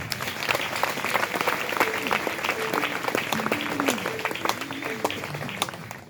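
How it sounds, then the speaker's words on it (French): A church gathering's audience applauds a brother in a steady, dense burst of clapping that lasts throughout, with voices calling and talking over it. "Applaudissez-moi le frère Rémi."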